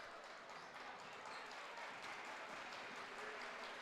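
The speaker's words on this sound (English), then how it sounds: "Notre Dame crowd getting into it." Home crowd at a Notre Dame boys basketball game against De Pere, a broad sustained wash of cheering and clapping in a gym, fairly faint and steady throughout with no clear speech.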